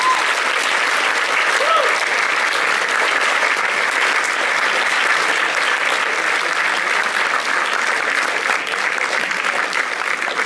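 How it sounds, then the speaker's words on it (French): An audience applauds producer Kelly Hayes at a film festival screening, a loud, steady wash of clapping from a full room lasting throughout. "Applaudissez-le."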